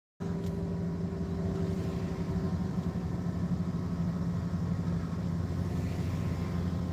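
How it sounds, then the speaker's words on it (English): A truck engine runs steadily at idle for the whole stretch, a constant close drone with a faint tonal whine riding on top and no talk. "Can you hear this truck whining?"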